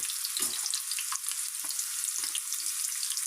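Chopped onion pieces frying in hot oil give a steady, close, bright sizzle throughout, with a few soft stirring knocks and no talking.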